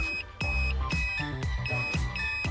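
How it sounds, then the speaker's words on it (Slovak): A Pandora BT-780 car alarm system chirps inside a car's interior, giving a series of bright electronic beeps in a steady, regular rhythm, close and clear with no talking. "V interiéri môjho auta počujem 3 pípnutia."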